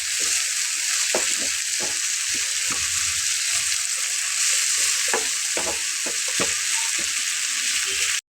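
Ridge gourd frying with tamarind in a pan, a steady loud sizzle throughout with repeated scraping and tapping of a spatula as it is stirred, close up with no talking.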